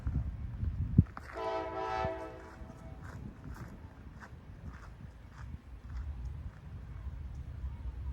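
A slow freight train rolls south past Haley Tower in Terre Haute, Indiana, its steady rumble and rattling wagons carrying on throughout, with a bright screech or horn-like tone near the start.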